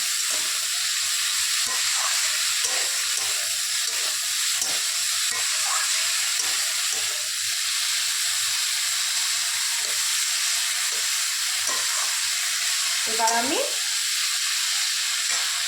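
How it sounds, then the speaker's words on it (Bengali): Gentle, steady sizzle of poppy seed paste frying with a spoonful of turmeric in a pan, with occasional soft stirring scrapes; a continuous close hiss with no talking. "দিয়ে এটাকে একটু ভাজা ভাজা করে নেব, হালকা করে একটু"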